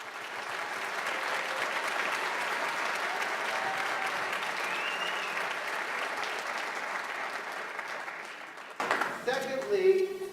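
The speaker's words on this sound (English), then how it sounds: "So give them a round of applause." Parents at a middle school winter concert give the school band a long, steady round of applause that carries evenly, then dies down as a speaker begins talking.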